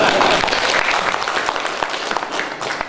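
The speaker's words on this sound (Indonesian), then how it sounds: "Tepuk tangan untuk Pak Elim." Applause from an audience at a university seminar in Central Sulawesi, a loud, dense rattle of many hands clapping together, easing slightly toward the end.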